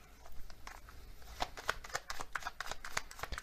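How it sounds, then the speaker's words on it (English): Oracle cards being shuffled by hand in a series of soft, quick riffling and flicking sounds, quiet and close, with no voices. "So I'm going to get some more oracle cards here."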